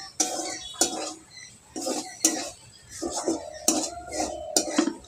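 Metal spoon scraping and clinking against a pan while potatoes and pointed gourd are stirred, a series of short, separate knocks and scrapes at an irregular rhythm, close and fairly quiet.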